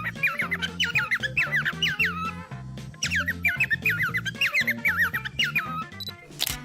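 A parrot gives rapid, chirpy squawks in several quick bursts over a bouncy, rhythmic music track, close and fairly loud.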